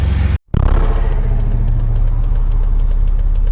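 A Jeep TJ fitted with a THOR cold air intake drives off after a brief cut, its engine a steady, loud, close rumbling drone with a throaty intake note throughout.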